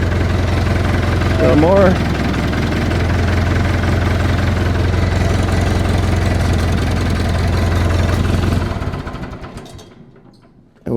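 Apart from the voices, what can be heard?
engine idling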